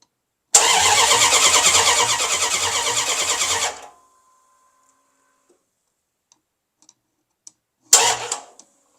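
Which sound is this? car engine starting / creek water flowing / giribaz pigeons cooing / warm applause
car engine starting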